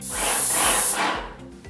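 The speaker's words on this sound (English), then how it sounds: "Now we're going to spray left to right." A spray gun hisses in a loud, steady burst as paint is sprayed onto a surface in even left-to-right strokes, then cuts off to a softer fading hiss.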